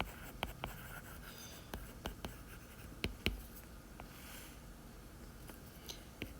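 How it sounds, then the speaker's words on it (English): Pen or marker writing out a theorem on a surface for a lesson about the cotangent graph: quiet scratchy strokes with sharp taps as the tip meets the board, irregular and close, with no talk. "I'll just write it again."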